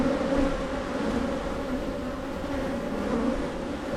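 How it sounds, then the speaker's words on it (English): Honeybees at a beehive in mid-June hold a steady, close, continuous buzzing drone with no pauses and no talk, the dense hum of many insects around the hive. "As more bees crawl in."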